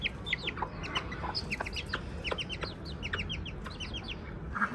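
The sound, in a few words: hen with chicks clucking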